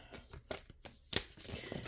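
Tarot cards being shuffled by hand, a quiet series of soft riffling and slapping card sounds, close and faint, with no talk.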